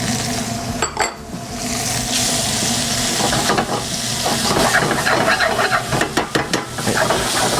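Chopped ginger sizzles in melted butter in a pan, a steady close crackle with utensil stirring and scraping against the pan throughout.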